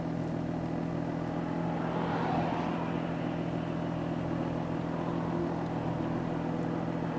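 A Toyota Supra engine holding a steady 4,500 RPM, a constant droning hum with a low, even tone and no talking.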